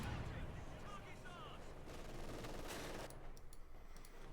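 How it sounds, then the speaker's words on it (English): Bursts of gunfire from Company of Heroes 2 rake a squad of sappers pushing ahead, with rattling machine-gun fire and battle noise spread across the clip under ongoing commentary talk. "Sappers being riddled with bullets as they try to push ahead"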